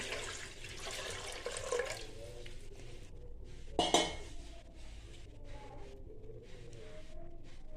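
Water splashes and runs into a metal pot while making dum biryani, with a sharp clank of cookware midway and soft kitchen clatter afterward.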